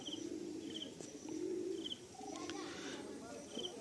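Pigeons at a loft give soft, rolling coos and a few faint chirps, fairly quiet against ambient background with a voice faintly present.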